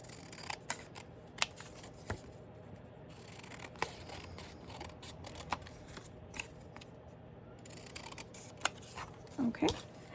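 Scissors cut out paper for a scrapbook page, a series of crisp, close snips at an irregular pace, fairly quiet, with light paper rustling and a faint handling sound at the end.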